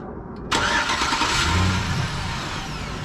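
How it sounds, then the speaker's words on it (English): A 2005 Chevy Silverado pickup fires up by remote start. After a brief quiet moment the engine cranks and catches with a loud burst, revs briefly, then settles into a steady idle close by. "I'm gonna start it up for y'all with the remote start."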